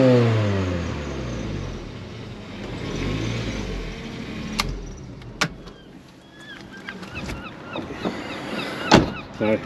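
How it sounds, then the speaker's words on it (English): A Ford Escort Cosworth WRC replica with a weak battery revs its engine, a rough rising and falling roar with a few sharp clicks and knocks, close by and steady throughout. "Give her a rev."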